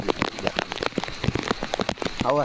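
Rain pouring down in a village street, a close, busy patter of drops on surfaces throughout, with a brief voice near the end.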